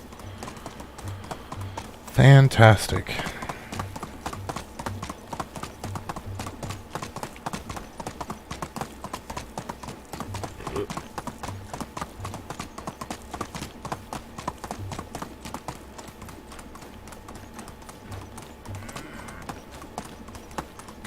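A horse trots along in Medieval Dynasty, its hooves clip-clopping in a steady rhythm throughout, briefly topped by a loud burst near the start and someone speaking.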